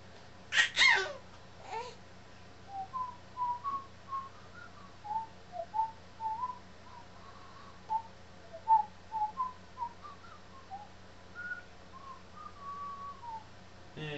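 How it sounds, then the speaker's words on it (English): A person whistles a soft, wavering series of short notes indoors near a baby, faint and intermittent after a brief louder burst at the start. "Now whistle at her."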